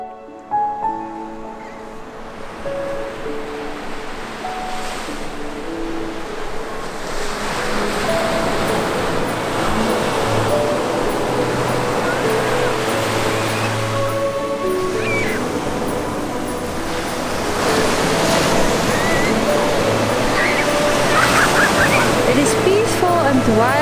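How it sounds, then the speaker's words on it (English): Sea waves break steadily on the shore in a continuous, broad surf roar that swells and settles, with occasional gull-like cries and a low hum underneath. "I love the sea."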